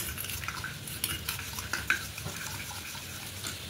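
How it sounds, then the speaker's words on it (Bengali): Ingredients mixed into a batter for a pomfret yogurt curry, with quiet scraping and stirring in a bowl or pan and a few light clinks of a utensil, steady and close with no talk. "এইভাবে করে মিশিয়ে নেব।"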